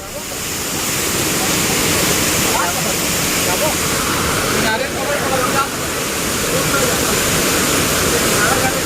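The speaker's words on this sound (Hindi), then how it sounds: "ये तरफ झरना में बहुत ज्यादा भी पानी है" A loud, continuous roar of rushing water from a waterfall, close by and unbroken, with a windy rumble beneath it.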